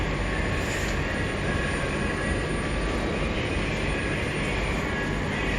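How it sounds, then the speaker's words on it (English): Trenitalia regional train at the platform of Cesano station, a steady loud mechanical rumble and hum filling the whole stretch without a break. "So this is the train."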